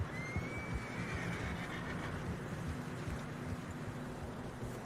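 A horse whinnies once in Red Dead Redemption 2, a faint rising then falling cry over steady wind and trudging noise as horses struggle through deep fresh snow on a narrow mountain path.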